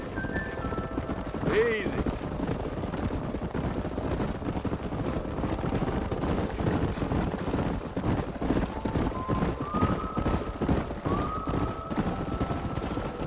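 Horse hooves clip-clopping in the Red Dead Redemption video game, steady and fairly near, with a brief whinny early on, under game music and a short spoken word.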